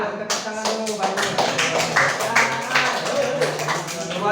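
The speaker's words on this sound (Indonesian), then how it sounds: "Tepuk tangan dulu, bagus." Students in an Indonesian eighth-grade civics classroom clap together in a quick, fairly regular rhythm, close and lively, with a faint hum of voices beneath it.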